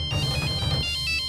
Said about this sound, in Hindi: सूरज का फोन